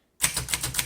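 Keys strike in quick succession on a 1951 Underwood Finger Flite manual typewriter, typing over a mistake; a steady run of sharp, close clacks starts after a brief silence, with no voices.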